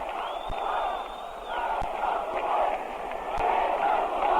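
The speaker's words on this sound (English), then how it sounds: "And this crowd is going wild by the minute now" Big stadium crowd at a 1973 Mets vs. Reds playoff baseball game roaring and cheering in a steady, swelling wash, with faint whoops rising above it.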